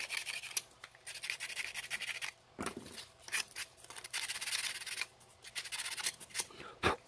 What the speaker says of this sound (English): You just sand it. You can also sand with this, whichever is easier for you.